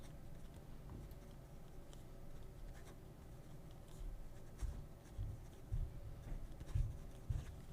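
A steel nib fountain pen scratches across paper in short, quiet strokes, faint and close, growing slightly busier toward the end over a low room hum.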